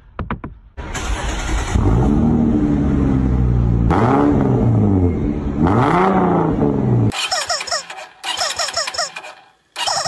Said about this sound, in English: With this attachment, your car's exhaust system will sound like a sports car.